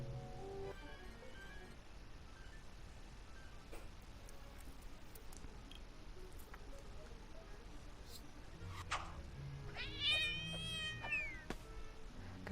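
A cat meows in the video game My Aunt is a Witch, a few soft, rising mewing calls near the end, heard over quiet game ambience and a low background hum.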